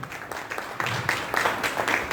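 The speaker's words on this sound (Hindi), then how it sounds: "हम चाहते हैं उनके लिए सम्मान में जोरदार ताली हो जाए" An audience applauds in honour of a doctor at an Ayurveda talk, a dense and moderately loud patter of many hands that swells slightly partway through and continues steadily.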